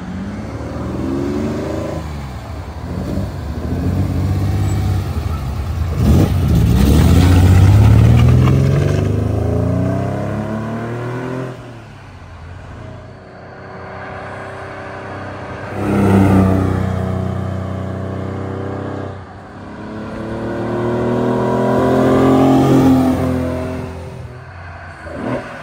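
A 1975 Ferrari 365 GT4 2+2 makes repeated flybys, its engine revving and rising as it approaches, roaring past loudly, then fading before the next pass sweeps by.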